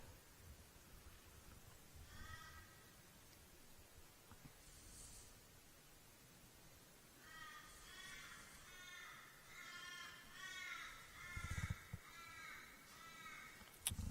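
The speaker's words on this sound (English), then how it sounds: "Might be able to hear one very noisy crow in the background." A crow caws repeatedly in rhythmic series at moderate distance at a clay shooting competition, the harsh calls growing busier in the second half over faint background noise.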